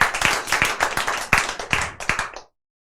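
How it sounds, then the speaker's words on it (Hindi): Audience clapping at a children's day award ceremony as a medal is presented, a fairly loud, uneven patter of hands with rhythmic peaks that ends abruptly into silence. "आप लोग ताली में कंजूसी ना करें।"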